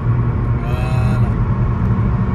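A Mercedes AMG A-Class engine pulls steadily on the motorway, a loud, continuous low rumble with a brief rising whine as it accelerates, heard from inside the car with no talking.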